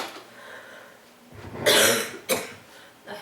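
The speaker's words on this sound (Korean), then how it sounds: "이 바람 때문에 기침이 더 이런 거." A person coughs close by during a church prayer service, one harsh rasping cough followed by a shorter second cough, with a quiet room otherwise.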